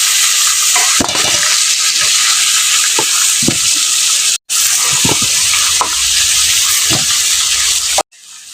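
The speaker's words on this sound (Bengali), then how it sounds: "চিকেনটাকে আমি ভেজে নিয়েছি। এবার আমি উঠিয়ে নেব।" Chicken sizzling in hot oil in a wok for a chicken kasha, a steady loud frying hiss with periodic stirring scrapes, briefly cut off twice.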